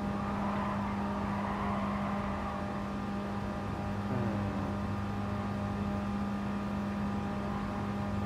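A car engine drones steadily in Gran Turismo Sport, a constant mid-level hum with a faint rising note around the middle, continuous and unbroken throughout.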